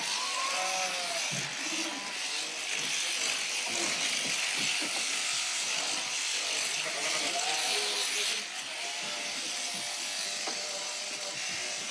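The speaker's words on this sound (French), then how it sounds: "tond les derniers moutons avant qu'ils soient conduits dans la montagne" Electric shears buzz steadily as sheep are shorn in Iceland before the flock goes up to the mountains. The hum is fairly faint and constant, with occasional bleats and brief shuffling noises mixed in.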